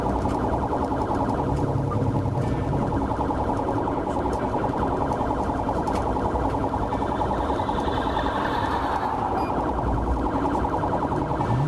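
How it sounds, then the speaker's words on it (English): Police patrol car sirens wail steadily during a high-speed chase on an interstate highway, continuous and fairly loud over a dense rumble of traffic and engine noise, with no talk. "With sirens wailing, 2 patrol cars chased the vehicle."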